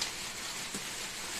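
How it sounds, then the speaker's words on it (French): Rain falls steadily outdoors as a soft, even hiss with faint pattering. There is one small bump partway through. "là maintenant il y a la pluie"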